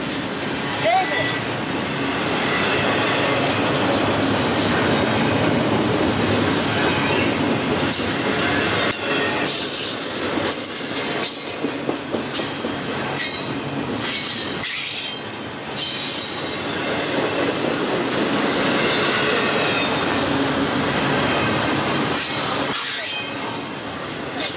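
A freight train passing on the Fostoria rails, a loud continuous rumble of rolling cars with metallic wheel squeal and rail clatter sustained throughout, people talking faintly underneath.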